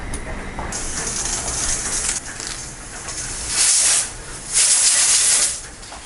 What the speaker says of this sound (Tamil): இதை 3 விசில் விட்டு எடுத்துக்கலாம்.